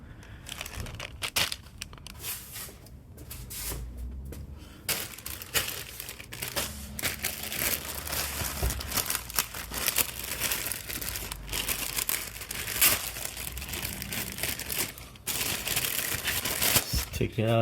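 Plastic bag crinkling and rustling as a small OEM plastic battery cap for a Lexus is unwrapped, a dense run of close crackles and crumples with brief pauses, and no talk.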